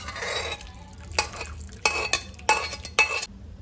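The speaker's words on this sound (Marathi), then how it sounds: "सो हे मटकीचं जे पाणी आहे ना ते पण टाकायचं." Boiled moth bean water is poured into frying masala in a pan, followed by a quiet sizzle and several sharp scrapes and clinks of a spoon stirring against the metal.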